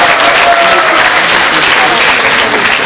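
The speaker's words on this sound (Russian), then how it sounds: "бурные, несмолкающие аплодисменты зрительного зала" A theatre audience at a team quiz game gives a loud, dense burst of applause that fills the hall and holds at a steady level throughout.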